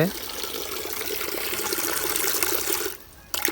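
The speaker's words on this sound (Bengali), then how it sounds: "আপনার সরকারি পানি আসছে" Water from a government supply runs from a tap in a steady, splashing stream, then cuts out for a moment near the end before starting again.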